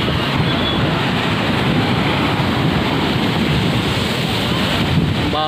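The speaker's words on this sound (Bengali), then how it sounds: "এখন বর্তমান 2-3 দিন এরকম চলছে ভয়ঙ্কর জলোচ্ছ্বাস ওল্ড দীঘা সমুদ্র সৈকত" Heavy storm surge waves pound Old Digha beach in a continuous loud roar of surf and churning water, with wind buffeting the microphone and no voices.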